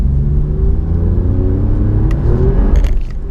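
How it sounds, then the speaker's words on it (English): A 2017 Alfa Romeo Giulia Quadrifoglio's exhaust rumbles deep and loud as the engine pulls harder, the growl rising in pitch, with a couple of faint metallic clinks near the end. "you can hear the exhaust get a little bit louder"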